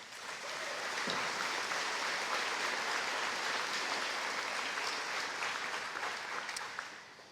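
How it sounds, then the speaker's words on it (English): A gymnasium audience at a BBE Class of 2019 graduation ceremony breaks into sustained applause, dense and even clapping filling the room from start to finish before tapering slightly at the end. "Let's have a round of applause for those folks."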